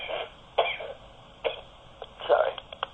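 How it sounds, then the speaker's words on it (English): A man's cough during a talk about R&B recordings: several short, muffled bursts spaced across a few seconds, fairly close, with no speech. "A bit of a cough."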